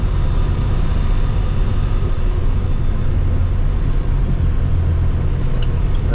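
A 2010 International 7600 dump truck with a Cummins engine shifts into fourth gear, its diesel drone steady and close throughout with a low, even rumble and no voices.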